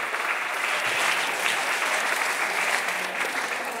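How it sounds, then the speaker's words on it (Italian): A stand-up comedy audience in a theater applauds continuously for a few seconds, a dense, even wash of clapping with no voices standing out. "facciamo un applauso ai nostri amici."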